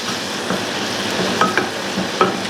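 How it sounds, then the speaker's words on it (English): About two tablespoons of butter melt in a pan with a soft steady sizzle, broken by a few light clinks and scrapes of a utensil. "So let's melt the butter."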